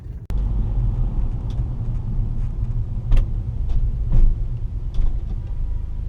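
A car driving through downtown Longmont, Colorado, heard from inside as a steady low engine and road rumble with occasional small clunks and rattles, continuous throughout.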